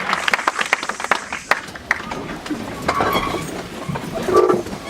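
A church congregation breaks into applause, giving a dense, close burst of clapping with voices mixed in.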